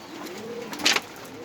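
A pigeon coos once, softly and close by, over a quiet background.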